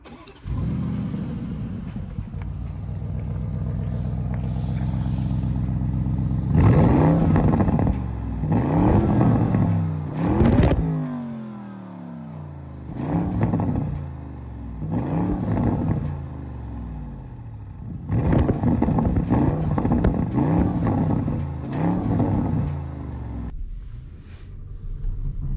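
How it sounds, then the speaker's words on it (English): 2021 Porsche Cayenne Turbo Coupe V8 with sport exhaust starting up close by, a sharp bark settling into a rumbling idle, then several loud revs rising and falling before the engine quiets near the end. "now let's start the car up so you can listen to that wonderful V8 sport exhaust system"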